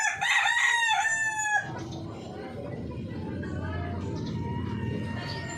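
A rooster of the Orpington breed crows loudly and close up at the start, then gives way to a steady murmur of clucking hens and farmyard background noise for the remainder.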